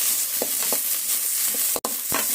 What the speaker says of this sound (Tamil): நல்லா ப்ரௌன் கலரில் வர வரைக்கும் நம்ம வதக்கிக்கலாம்.